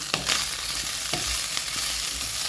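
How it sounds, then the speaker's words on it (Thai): Pork fries in hot oil in a pan while being stirred, giving a steady close sizzle broken by a few sharp scraping and clinking strokes of the utensil, with no voices. "ถ้าไม่คนหมูมันจะกระเด็นนะ ทุกคน คนไว้เรื่อย ๆ"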